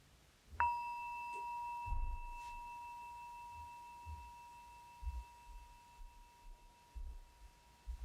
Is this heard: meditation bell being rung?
yes